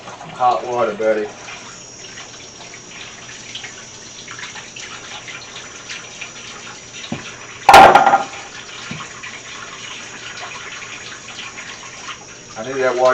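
Hot tap water runs steadily into a sink while a slimy aquarium filter from a breeder tank is rinsed clean, a low continuous wash with a louder splash near the middle and a voice speaking at the start and end.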